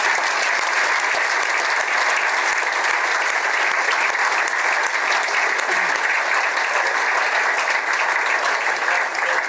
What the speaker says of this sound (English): let's have a round of applause for Jello.